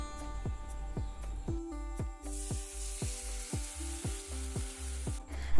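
Chicken pieces sizzle steadily as they go into lightly browned fried onions for a village-style curry, with a regular rhythm of stirring scrapes and clicks close up throughout.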